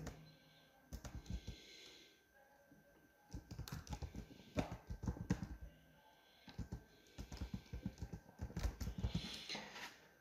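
Keys clack on a computer keyboard as a web store address is typed, coming in quick bursts of close, quiet tapping separated by short pauses, no voices.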